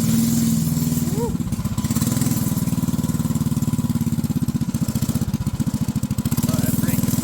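A small ghost racing engine fitted to a toddler-sized racecar bed buzzes and revs loudly up close, its pulsing rasp rising and falling as it runs, with speech over the top.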